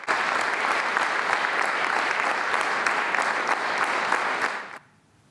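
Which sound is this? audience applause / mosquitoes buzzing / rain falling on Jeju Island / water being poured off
audience applause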